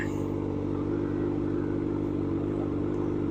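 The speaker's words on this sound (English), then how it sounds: "You'll probably hear the exhaust over the music still." A Suzuki GSX-R600 motorcycle with 1000cc aftermarket exhaust headers idles and rumbles steadily with a deep, throaty exhaust note, ending in a sudden louder burst.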